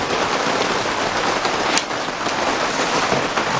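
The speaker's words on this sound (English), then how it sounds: "This rain is annoying, guys." Steady rain pours outdoors during head gasket repair on a 2006 Kia Sportage EX 2.7 engine, making a dense, loud hiss that holds evenly throughout with no talking.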